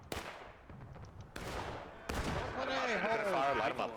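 Volleys of musket fire in the War of Rights video game on the Hagerstown Turnpike map, three big crashing discharges that build in intensity, with shouting voices over the din.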